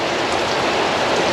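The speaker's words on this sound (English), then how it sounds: "I'm still waiting here because it's raining" Steady rain falls outdoors, a dense, even hiss of drops with no pauses, close and fairly loud, with no voices over it.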